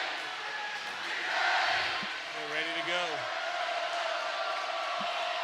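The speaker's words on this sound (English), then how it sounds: "All right, here we go with the crowd." A crowd cheers and roars throughout at a high school varsity volleyball match between Lakota West and Hamilton, loud and sustained in a gym, with a whoop and a short bounce heard over the noise.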